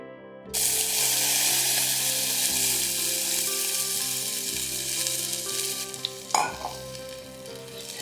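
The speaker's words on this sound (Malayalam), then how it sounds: "പുളിവെള്ളവും കൂടെ ഒഴിക്കാം." Tamarind water poured into a hot pan of tempered spices for a quick Kerala-style rasam, with curry leaves, setting off a loud, steady sizzle and frying hiss that runs throughout, with a sharp burst of spitting near the end.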